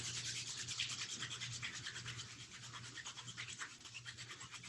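Palms rubbing together briskly during a beginner qigong exercise, a steady soft swishing friction that runs continuously at close range with a faint low hum underneath.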